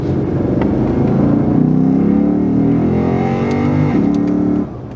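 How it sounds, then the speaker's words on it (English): A Lexus IS F in sport mode accelerates with a loud, deep engine roar that climbs steadily in pitch. Heard from close range, the engine drops off abruptly just before the end. "Sport mode. I shall activate it for you."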